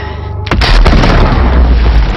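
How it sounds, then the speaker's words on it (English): A loud, close explosion from the film Sherlock Holmes (2009) bursts after a brief quieter stretch, then a dense roaring rumble fills the rest of the clip. "Oh god, it's gonna explode."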